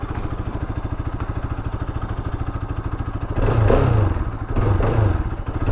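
A Yamaha MT motorcycle engine runs at a steady, throbbing idle, close and loud, then revs up twice in strong bursts before settling back.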